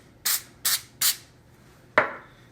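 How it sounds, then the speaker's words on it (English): An oil spray can mists the tops of pork chops in four short, close hissing bursts: three quick ones in a row, a brief pause, then a final longer spritz. "I'm going to spray the tops again, same whatever oil you were doing before."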